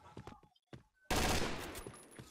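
Gunfire from the battle royale game PUBG, starting as a sudden loud burst of rapid automatic shots that stays dense through the rest of the clip, preceded by a second of talk.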